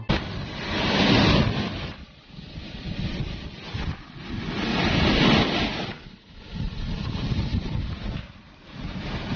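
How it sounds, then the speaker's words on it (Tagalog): Big ocean waves breaking on a shore, heavy roaring surges that swell and fade in slow cycles every few seconds, loud and near with wind rumble. "So, laki lang talaga ng alon."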